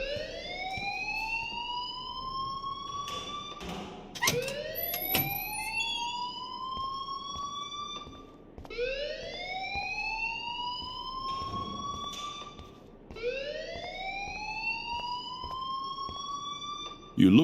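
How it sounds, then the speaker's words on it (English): Fire alarm ringing in the Life is Strange Remastered video game, a loud rising whooping siren repeating in four long sweeping cycles, with voices talking beneath it. "please turn off that alarm since that's your job."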